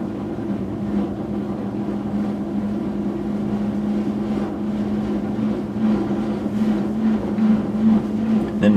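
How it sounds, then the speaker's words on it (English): LG washing machine drain pump extracting leftover water, a steady close low hum with a faint rising tone and slight rattling, running continuously on its own. "The noise you hear now is actually the pump again, trying to extract any water that might still be left."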